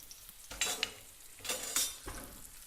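Italian sausage and eggs with chili peppers fry in a pan, giving a soft, continuous sizzle broken by a few bursts of stirring and scraping close by.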